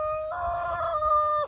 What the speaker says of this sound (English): We got a loud-ass rooster.